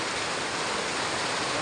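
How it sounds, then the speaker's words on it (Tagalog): A sudden, heavy downpour pours steadily, forming a dense, even hiss of rain with no breaks. "biglang bumuhos ang malakas na ulan"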